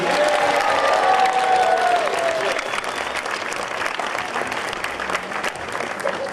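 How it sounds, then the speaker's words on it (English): A construction-industry suicide-prevention anniversary crowd breaks into big, sustained applause, dense and loud at first, then settling into steadier, slightly softer clapping that carries on to the end. "How about we start off right now with a nice big round of applause."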